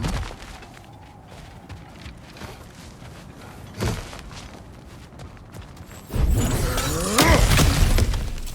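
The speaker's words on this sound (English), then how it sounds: "Ah, back to smashing through things for fun and profit." Ground smashing open in God of War Ragnarok: a loud burst of shattering rock and debris that crashes in after a quieter stretch with a single thud, breaking up under a roar of falling rubble.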